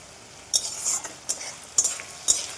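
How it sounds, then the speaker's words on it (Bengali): Fish cooks in oil with spices in a pan, with a gentle sizzle under four distinct scraping stir strokes spaced about half a second apart, close and fairly quiet, with no speech. "মাছ বসিয়ে দিয়েছি, মানে মাছের দিয়ে মশলা কষাচ্ছি"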